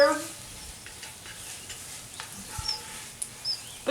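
Vegetables sizzle and crackle in a Dutch oven over an open campfire outdoors, a soft steady fry with scattered pops and stirring clinks and faint bird chirps in the background.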